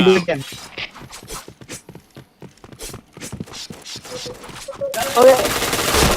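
Rapid gunfire in the PointBlank shooting game: sharp bursts and single shots, close and loud, with a denser burst near the end and voices talking over it.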